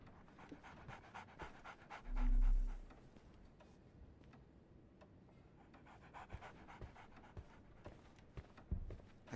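A dog pants steadily with quick, rhythmic breaths in the Sherlock Holmes: The Awakened video game, close and fairly quiet, with a brief louder thump early on and no talking.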